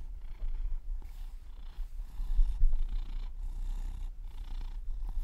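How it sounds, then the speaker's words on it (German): A male cat purring close up, a steady low rumbling with rhythmic breaths in and out, continuous and fairly loud with no talking. "Er schnurrt."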